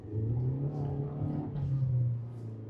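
A Hyundai Verna facelift engine revs steadily under acceleration without a gear change, a close, continuous droning hum with a slight rising swell.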